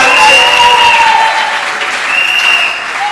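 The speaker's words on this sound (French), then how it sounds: "acclame le Seigneur" Church congregation clapping and cheering to acclaim the Lord during a worship service, a dense, steady wash of applause with shouts throughout.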